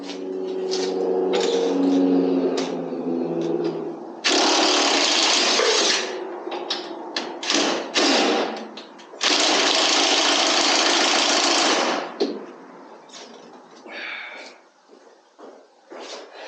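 An impact wrench with an impact-rated chrome socket works on bolts of an LT-1 engine, firing two long, loud rattling bursts and several short blips close by, with quieter gaps between.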